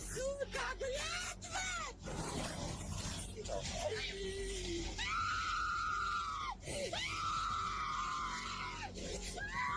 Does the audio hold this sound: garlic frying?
no